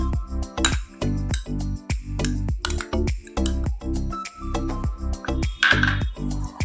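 A spoon strikes a bowl in a rapid, irregular series of bright clinks while yogurt is beaten with a mustard-and-poppy-seed paste, close and clear with no talk.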